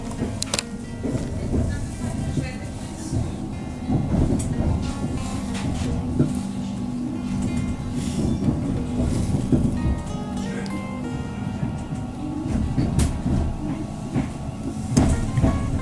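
A passenger train runs from Wemyss Bay to Glasgow Central, heard from inside as a steady rumble and rattle of the carriage with occasional clanks and squeals, continuous and fairly loud throughout.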